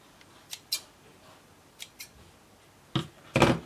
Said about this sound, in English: Just snip it off for now.